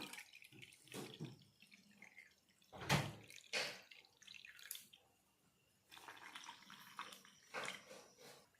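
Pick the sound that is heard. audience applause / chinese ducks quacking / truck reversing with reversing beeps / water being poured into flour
water being poured into flour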